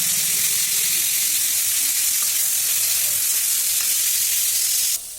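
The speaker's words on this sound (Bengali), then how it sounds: "একটু কড়াই তেল দিয়ে দিচ্ছি জিরার ফুটন দিয়ে দিচ্ছি মূলাটা ভাজার জন্য" Radish frying in hot oil with cumin in a wok, a loud continuous sizzle and hiss throughout, cut off abruptly near the end.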